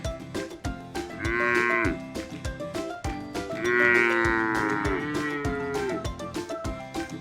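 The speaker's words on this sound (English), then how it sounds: "Cow sound is known as moo." Cows mooing on a farm, several long, loud lowing calls, with a brief moo near the start and a longer drawn-out one midway, set over a busy rhythmic background of music-like beats.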